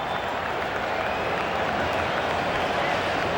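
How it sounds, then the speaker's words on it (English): A large stadium crowd at an NFL game, Chargers at Eagles, gives off a steady, dense murmur of many voices with faint scattered clapping, continuous and fairly loud throughout. "you can hear the murmur through the crowd as they're standing"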